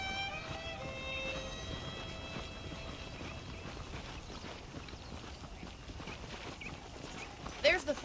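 Horse hooves clip-clopping in the video game Red Dead Redemption, a quiet steady rhythmic trot under someone talking, with a brief clatter near the end.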